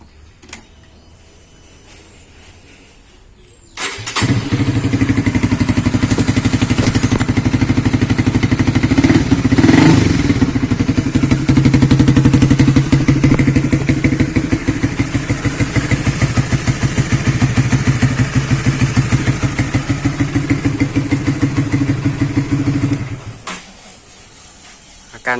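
A Honda CB150R motorcycle fitted with a Satria CKD exhaust starts up and runs loud and close for about twenty seconds, a steady throbbing engine note with slight rises in revs, then cuts off.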